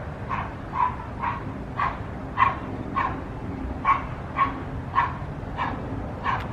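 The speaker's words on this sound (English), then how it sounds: "I guess that dog is just gonna bark all freaking day" A dog barks repeatedly in regular pairs of short barks, somewhat distant, over a low background rumble with no speech.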